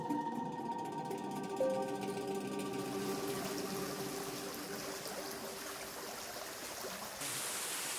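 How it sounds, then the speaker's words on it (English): Soft, continuous flow of a forest stream swollen by rain, fairly faint and distant, with a fading musical tone at the start before the water carries on alone. "As the rain picks up, streams in my forest start becoming noisy."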